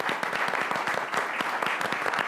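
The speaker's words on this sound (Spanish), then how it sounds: "un aplauso por favor." Audience applause at a Spanish-language webinar panel on public affairs, a steady dense wash of many hands clapping at moderate loudness, continuous throughout with no voices standing out.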